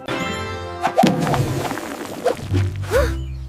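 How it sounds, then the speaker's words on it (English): A yellow balloon pops in a children's colour game, giving one sharp burst over bright tonal backing, followed by a few softer thuds and swishes. "A yellow balloon! Ready to pop!"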